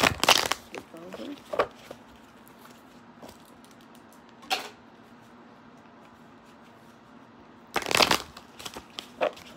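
Tarot cards shuffled and pulled from the deck, with bursts of riffling and crisp card snaps separated by quiet stretches, close by and fairly loud.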